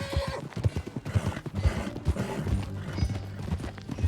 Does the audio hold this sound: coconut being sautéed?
no